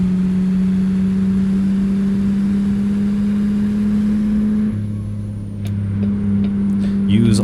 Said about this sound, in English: Ooh, we're really revving it out here.